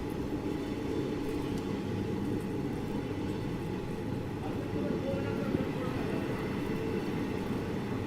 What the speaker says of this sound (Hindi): बाकी अपनी ट्रेन का अराइवल हो रहा है धौलपुर जंक्शन रेलवे स्टेशन में।